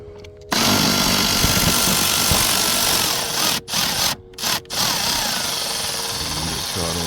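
A T25 Torx screw being driven out of the DME of a BMW E46: a loud, steady whirring buzz that cuts out briefly several times near the end before resuming.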